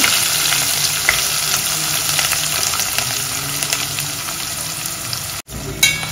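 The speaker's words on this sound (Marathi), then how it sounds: "तर आता जिरं मोहरी फुलल्यावर कांदा घालून घेते मी याच्यामध्ये।" Onion fries in hot oil with spluttered cumin and mustard seeds and curry leaves, a loud continuous sizzle with occasional stirring scrapes and a brief sharp clatter near the end.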